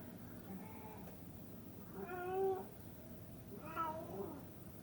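A cat meows for attention indoors, two drawn-out, moderately faint meows about two seconds apart, heard over a quiet room background with no talk.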